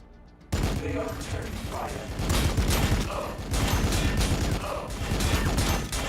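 A heavy close support unit opens fire in the Warhammer 40K Battlesector video game: loud, sustained bursts of rapid gunfire with mechanical clatter, coming in several waves after a brief quiet start.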